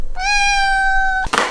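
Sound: cats meowing

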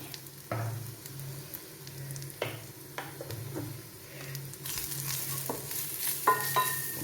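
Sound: frying chilli, coriander, garam masala and pepper powders

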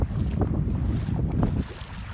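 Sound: light wind blowing outdoors at the beach

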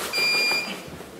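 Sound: electronic beep from a Raspberry Pi radar gun

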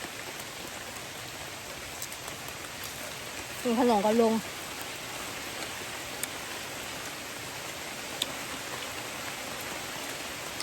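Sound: heavy rain

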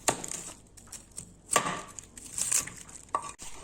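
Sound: knife cutting the white core out of cabbage

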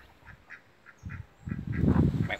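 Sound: geese and ducks calling

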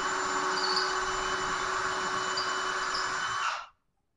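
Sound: power drill with 3/8 inch bit drilling door for deadbolt

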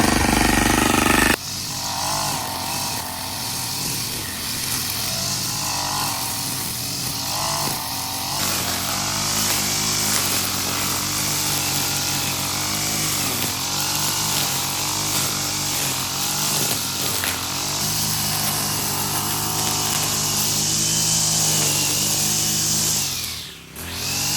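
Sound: grass cutter engine running

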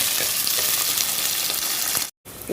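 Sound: onion and curry leaves frying and being stirred in a pan

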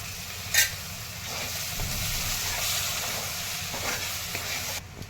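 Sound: masala with curd sautéing in a pan for dum aloo

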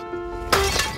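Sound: glass shattering

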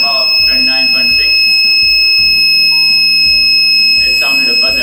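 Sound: alarm buzzer from machine overheat detector

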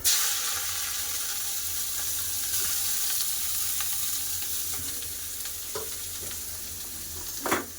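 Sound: bitter gourd frying in hot oil

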